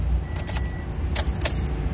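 Car keys jingle and clink close by at the ignition of a Toyota Vios with an automatic transmission, with a few bright rattling bursts over a low steady rumble from inside the car, and no talking.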